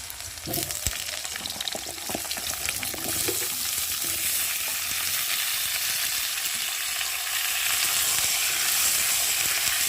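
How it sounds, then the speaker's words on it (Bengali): Vegetables for data chorchori, a Bengali amaranth-stem dish, fry in a pan after onion and spice tempering, a steady loud broadband sizzle running throughout with occasional scraping stir strokes. "আর এখন আমি সবজিগুলো দিয়ে ভালো করে ভেজে নেব"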